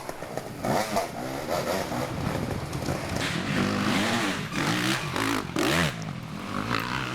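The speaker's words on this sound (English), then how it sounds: "Baylor once again hard on that KTM 250XC. Baylor all over the place, but he is hard on the throttle." A KTM 250XC enduro motorcycle racing at a national enduro event in Westpoint, Tennessee, its two-stroke engine revving hard and rising in rough bursts, with clattering and scraping from the trail.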